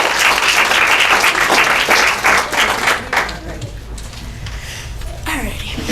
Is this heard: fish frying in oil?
no